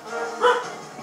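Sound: dog barking

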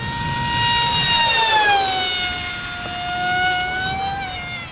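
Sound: Grayson Hobby model jet engine run at full throttle

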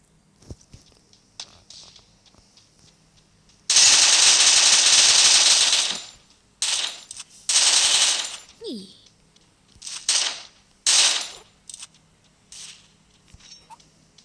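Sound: gunfire in a video game

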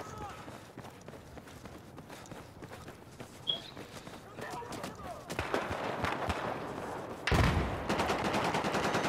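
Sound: gunfire in the video game Battlefield 4

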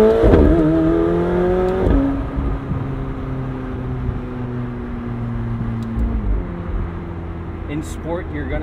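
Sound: McLaren 720S Spider engine accelerating and upshifting

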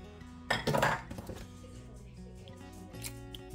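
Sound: cottage cheese and sour cream added to chicken mixture

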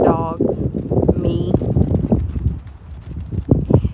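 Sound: horse hooves clip-clopping

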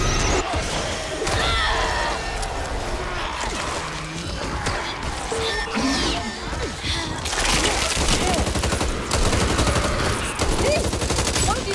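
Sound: gunfire in the video game Back 4 Blood

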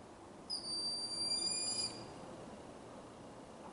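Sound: red-tailed hawk calling

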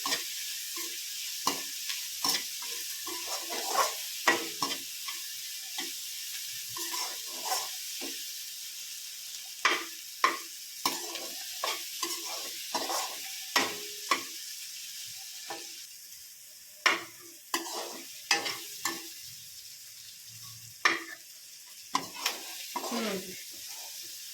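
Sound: tadka (tempering) frying and being stirred in a pan

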